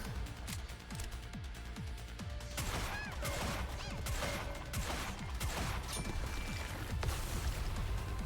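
Sniper fire in Goddess of Victory: NIKKE shows as a steady barrage of rapid shots and impacts throughout, dense and continuous, with game effects layered on top.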